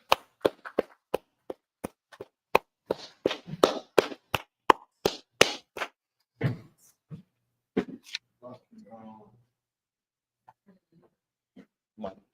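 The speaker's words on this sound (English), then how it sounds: "Clap it up." A class of students claps in sharp, evenly spaced strokes that quicken into a short burst, after which scattered voices talk in a quiet room.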